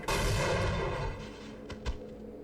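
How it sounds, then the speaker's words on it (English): Explosive barrels blown up by a machine gun grenade in the Half-Life video game, a loud blast with a long rumbling tail, followed by a couple of shorter thuds. "So we'll use a machine gun grenade to blow them up,"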